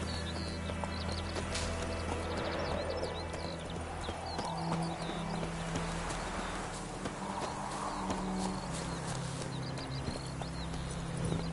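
Roach, a horse in The Witcher 3: Wild Hunt, gallops with steady rapid clip-clop hoofbeats throughout, set against a busy outdoor ambience of birds and a low drone.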